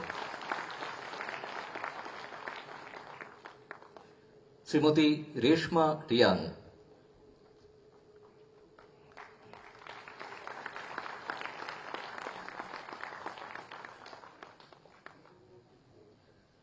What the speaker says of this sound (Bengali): আরো একটু জোরে করতালি আশা করব